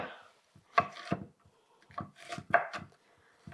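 Knife chopping onion on a cutting board, a handful of sharp, close thuds spaced irregularly with short scraping sounds between them, moderately loud in a quiet kitchen.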